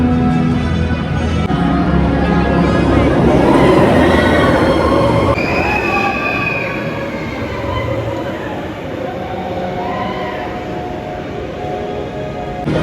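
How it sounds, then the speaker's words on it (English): A Tron roller coaster train at Magic Kingdom, Walt Disney World, rushes past loudly with rumbling wheels and metallic squealing, then fades into the distance while people talk nearby. "Like every 20 seconds there is another Tron train which goes past."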